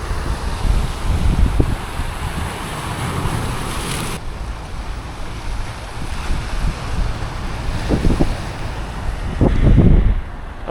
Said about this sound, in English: It's still a little bit windy,